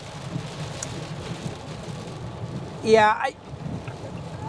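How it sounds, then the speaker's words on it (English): Steady wash of heavy rain and road noise inside a moving Tesla Cybertruck, with a brief spoken word partway through. "This is the heaviest rain I've driven in"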